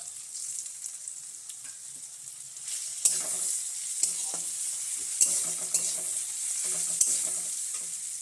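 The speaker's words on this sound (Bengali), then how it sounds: "পেঁয়াজগুলো প্রায় লাল লাল করে ভাজা হয়েছে এবার দিয়ে দেবো রসুন রসুন বাটা" Reddish-fried onions and garlic paste sizzle in a pan with a soft, steady frying hiss, broken by several sharp clinks and scrapes of a spoon stirring, with no talking.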